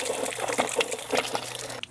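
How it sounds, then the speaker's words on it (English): Water draining and gushing out of an outdoor faucet spigot opened during a leak repair, a steady splashing trickle heard up close with no talking. "while I wait for the rest of this water to drain out"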